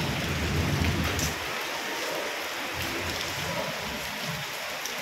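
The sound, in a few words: heavy rain with loud thunder, water flowing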